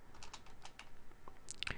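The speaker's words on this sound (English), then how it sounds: "So I'm going to type in source" Typing on a computer keyboard while entering source details into a statistics table, a quick run of light key clicks ending in a few sharper, louder taps.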